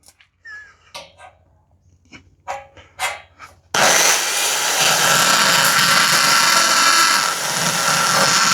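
A power drill bores a screw hole while a wooden stair is repaired, with a few short taps and knocks first, then a loud, steady whine of the drill running continuously up close.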